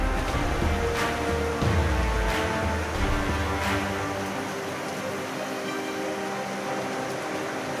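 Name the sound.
wind gusts during a severe thunderstorm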